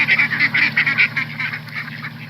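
Ducks quacking in a short played-back clip, a quick run of loud, close honking calls repeated in steady bursts with no talking.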